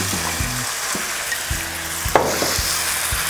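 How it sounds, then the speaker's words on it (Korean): Meat stir-fries in hot oil in a wok for Korean gochu japchae, a steady close sizzle with scraping stir strokes and a few sharper clacks of the utensil against the pan. "좀 고기를 풀어주셔서 고기를 튀기듯이 볶아주세요"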